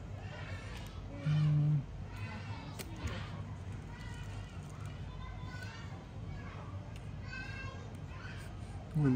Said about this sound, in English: Maybe you can also hear the kids playing in the background.